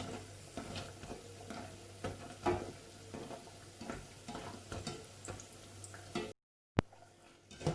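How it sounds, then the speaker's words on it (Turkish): Tulumba dessert dough frying in hot oil while being stirred, a soft continuous sizzle broken by repeated scraping stirs and light clicks, close and fairly quiet, with a short gap near the end. "yavaş yavaş kızarmaya başladı"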